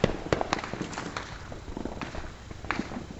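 Firework cannons shot off close to a house, giving a quick run of sharp pops and cracks, loud and near, with a few more scattered bursts following.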